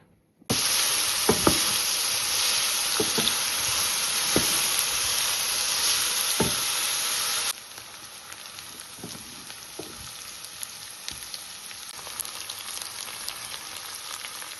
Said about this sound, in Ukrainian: Соус смажиться, все дуже гарно виглядає.